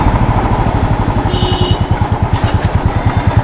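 A 2016 Royal Enfield Classic 350 single-cylinder motorcycle rides along with a steady, loud, pulsing thump and continuous engine drone, heard up close and alone with no talk.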